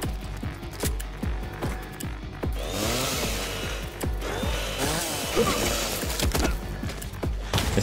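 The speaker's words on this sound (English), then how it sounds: "It's kind of awkward to use the chainsaw to aim with." Chainsaw in the video game Welcome to ParaDize, a buzzing saw revving and idling in repeated surges with clanking game effects, steady and fairly loud without speech.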